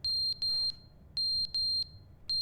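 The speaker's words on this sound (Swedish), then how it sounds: "Brandlarmet!" A smoke or fire alarm sounds loudly and close by in sharp high-pitched electronic beeps, arriving in repeating groups of three with short gaps between them.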